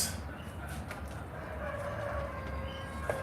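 A rooster crows in the distance, a faint drawn-out call rising and falling once behind steady low background noise.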